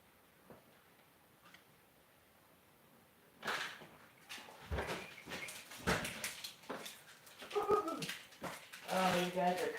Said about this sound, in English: But they're barking to get in.